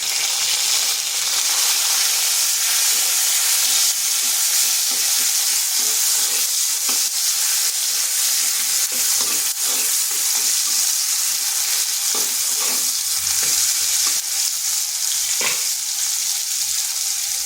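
A tomato fries in a wok of oil with black cumin and a dried chilli for a vegetarian potato and ivy gourd curry, making a loud, continuous sizzle with frequent spatters and stirring scrapes, no voices.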